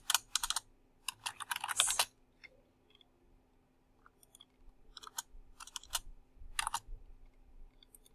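Typing on a computer keyboard while making a meme, with quick bursts of close key clicks separated by short pauses, fairly faint and with no voices.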